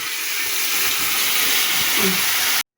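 Dal with bitter gourd boils hard in a pot, making a steady, close hiss of steam and bubbling that stops abruptly near the end.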